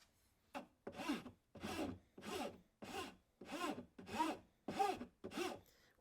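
A hand file worked across a wooden sword, eight or nine distinct rasping strokes in a regular rhythm, each a short scratchy burst with brief pauses between, close and fairly quiet.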